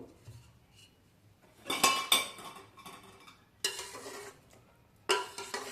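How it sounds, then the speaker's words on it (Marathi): Gulab jamun folded into sugar syrup in a pan, heard as a few short bursts of metal spoon scraping and clinking against the pan, separated by quiet gaps. "आता हे जे गुलाबजाम आहेत ते आपण या पाकामध्ये सोडूयात छान असे मिक्स करून घेऊ"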